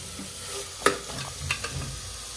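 Chickpeas (chole) are sautéed in a pan for a spicy chole bhaji, with soft frying hiss under a few sharp spoon-on-pan clinks and scraping stirs at irregular intervals.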